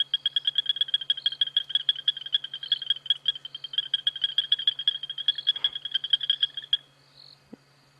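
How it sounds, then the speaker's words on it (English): Frogs call at night in Kenya's Maasai Mara, a dense, rapid train of rhythmic croaks from one loud nearby frog over a faint low hum, stopping near the end with a few soft bumps. "but you can just hear the frogs"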